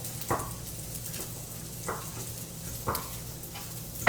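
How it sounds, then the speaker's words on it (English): Fork mashing tofu in a bowl, producing a few soft, wet squelching scrapes spaced about a second apart over quiet background hum. "I'm just going to mash this tofu"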